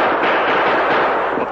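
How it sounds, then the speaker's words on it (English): An exchange of six-gun and rifle fire in an old-time Lone Ranger radio drama comes through as a loud, dense burst of crackling shots that runs without pause. "Dirk started shooting, and the Lone Ranger returned the fire."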